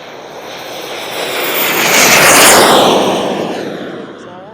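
Twin turbine engines on a Krill Ares L RC jet model roar loudly and close, swelling to a peak in the middle and easing off again, a harsh broad rushing whine with no talk over it.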